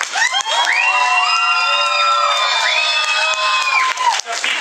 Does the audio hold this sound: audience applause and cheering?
yes